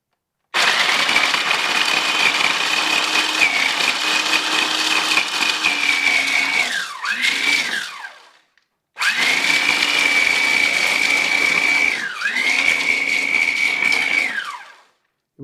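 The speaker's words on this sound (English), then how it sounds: "I'm just going to pour in some of that Crackling here into my blender here" Blender grinding pork crackling for carnivore chicken nuggets: a loud, steady whirring roar that runs in two long bursts, each ending with a falling pitch sweep as the motor winds down, with no talk.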